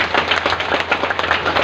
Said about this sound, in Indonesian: Mari kita tepuk tangan dulu.